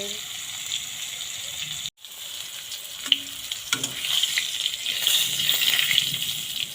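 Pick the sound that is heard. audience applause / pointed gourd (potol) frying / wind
pointed gourd (potol) frying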